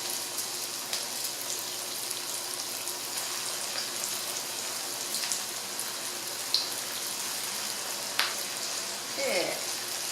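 Green tomato slices sizzle steadily in hot oil, a dense continuous crackle and hiss with occasional small pops, moderately close, with no voices.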